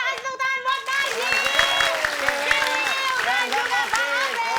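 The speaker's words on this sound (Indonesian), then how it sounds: "Oke, kita kasih tepuk tangan buat Najib." A studio audience applauds for Najib on a comedy variety show, with clapping running under a bright musical sting and voices throughout.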